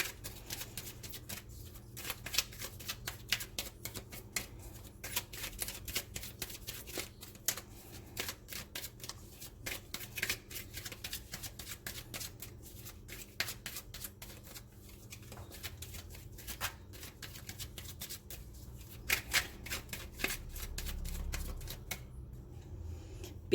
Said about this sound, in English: So let's pull some Oracle cards. This is the Wild Kuan Yin Pocketbook Edition.